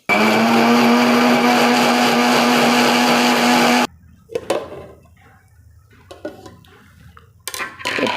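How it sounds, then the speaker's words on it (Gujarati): Strawberries and a little milk whirring in an electric kitchen mixer, a loud, steady motor drone for about four seconds that cuts off abruptly, followed by quieter clinks and handling sounds. "આને પહેલાં ક્રશ કરી લઈએ આપણે"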